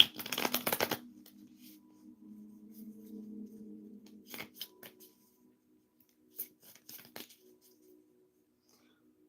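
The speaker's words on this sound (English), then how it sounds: "Let me shuffle the cards" Tarot cards are shuffled in a burst of quick riffling and rustling, followed by quieter intermittent slides and taps of the deck, close and soft with no talking.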